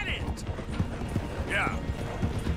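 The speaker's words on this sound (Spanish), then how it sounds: "Pero ¿por qué se frena el caballo?" Horse hooves clip-clop at a steady walking pace, slowing down, in Red Dead Redemption 2 gameplay, with game ambience and a brief whinny-like cry in the mix.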